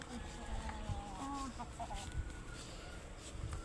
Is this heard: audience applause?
no